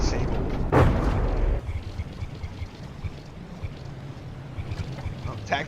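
In the naval combat game From the Depths, a shell strikes a warship's armoured turret with a loud booming impact, then a steady low rumble of engines and water continues at sea.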